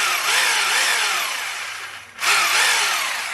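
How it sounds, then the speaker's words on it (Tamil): A rotary hammer drill runs loud and close with a steady buzzing whir, cutting out briefly and then starting straight back up. "இது வந்து பார்த்தீங்கன்னா ட்ரில்லும் சுற்றும் வைப்ரேஷனும் வரும் அந்த மாதிரி"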